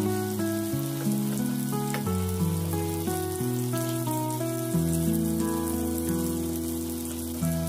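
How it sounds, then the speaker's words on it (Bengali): Dried red chillies hiss and sizzle in hot oil in a pan alongside fried potato and cauliflower, a steady soft crackle under layered background music throughout. "ভালো করে আলু আর ফুলকপিটাকে ফ্রাই করে এখন আমি দিয়ে দেবো তেলের মাঝখানটার জায়গাটায় শুকনো লঙ্কা।"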